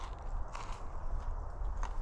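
Crunchy bites into a dense, tough rusk from a Polish SRG-5 military ration, eaten outdoors in the woods: several close crackling crunches spread over about two seconds, with no talk.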